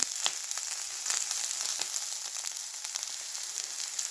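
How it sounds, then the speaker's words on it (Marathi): Bitter gourd fries in oil in a pan over low heat, giving a steady, close sizzle with small crackles and pops throughout, no voices present. "आपण व्यवस्थित तेलामध्ये चांगलं असं कडक भाजून घ्यायचं."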